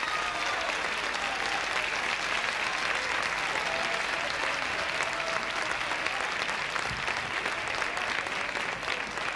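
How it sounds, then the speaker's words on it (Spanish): An audience applauds the orchestra conductor after a sentimental song at a dance event, producing sustained, dense, loud clapping that holds steady throughout, with only faint voices underneath. "El aplauso para usted, don Federico."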